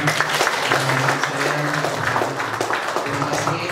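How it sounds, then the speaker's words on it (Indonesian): A church audience at a Catholic talk in Indonesia applauds steadily for several seconds, a dense continuous wash of many hands clapping at fairly even loudness. "Beri tepuk tangan untuk Anda semua."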